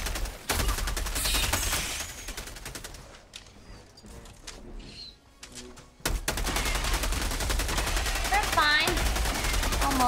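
Rapid automatic fire from a sentry turret in the video game Helldivers, a dense sustained rattle of shots that briefly drops away mid-burst before resuming loudly, with game effects layered underneath.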